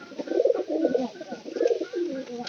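Pigeons coo steadily at close range, with low throaty rolling calls overlapping in repeated bursts and no speech.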